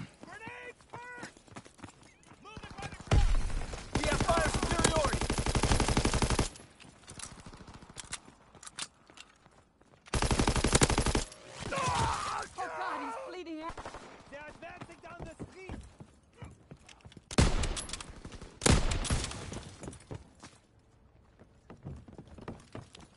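Gunfire from a firing line comes in several long, dense volleys of loud cracking shots separated by quieter stretches, mixed with horse hooves, whinnies and shouted voices.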